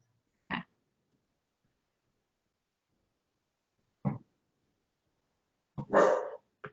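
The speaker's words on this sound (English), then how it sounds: "That's my dog, everybody." A pet dog barks three separate times with long quiet gaps between them, the last bark longer and louder, heard close by with no talking over it.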